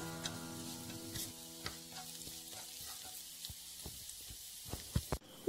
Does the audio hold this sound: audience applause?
no